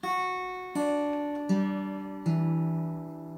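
Four clean plucked guitar notes, one after another, each ringing with steady sustain and slowly fading before the next is picked.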